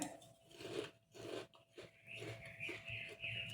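Close, crisp crunching of fried puffed rice being chewed, several bites in quick succession with soft mouth sounds between them.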